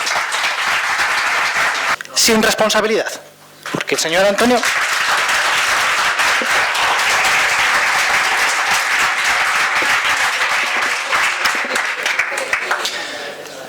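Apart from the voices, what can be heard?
public applause interrupting a council plenary session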